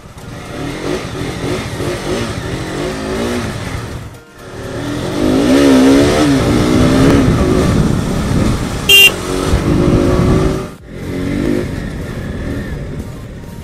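A KTM RC 200 and a Royal Enfield Bullet Classic 350 motorcycle run close by, with steady engine drone that rises in revving surges, a brief dip, a short horn-like beep, then more loud engine noise outdoors.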